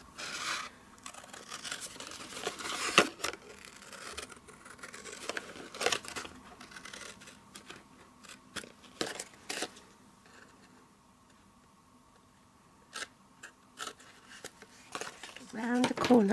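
Scissors cutting away paper for a fruit basket treat box, with repeated short snips and paper rustles scattered through a quiet room and a few louder crackles near the end.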